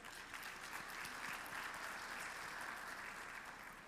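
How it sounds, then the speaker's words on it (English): Steady applause from a conference audience for a panel at an education forum, a dense, even wash of many hands clapping throughout, fairly faint and distant. "So a big applause for the panel"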